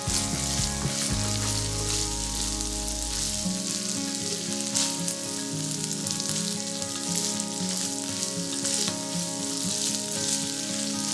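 Pheasant meat and mushrooms stir-fry in olive oil in a hot pan, a loud continuous close sizzle and crackle with scraping stirs and a low hum from the stove fading out early on.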